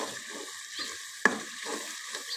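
Red chili mixture sizzling and frying in a pan as water is added for a gajar matar aloo gobi sabzi, a steady crackle with a sharp splash-hiss in the middle, near and moderately loud, with no talk.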